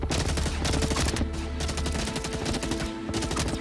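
Laser weapons firing in the video game Star Citizen, a loud dense barrage of rapid, overlapping shots with brief pauses between bursts.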